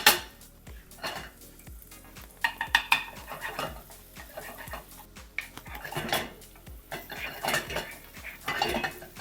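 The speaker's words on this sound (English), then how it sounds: "Then you can throw in your shallots and your garlic. Just stir that around." Shallots and garlic stirred in a pan sound mostly like a metal utensil clacking and scraping against the pan in a quick, regular rhythm, over a quiet sizzle, close and without voices.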